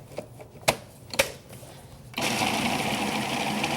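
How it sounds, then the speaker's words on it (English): Food processor pulsing cheddar cheese and butter gives a few sharp close clicks and knocks, then settles into a steady continuous motor whir. "I'm going to pulse that until it gets going"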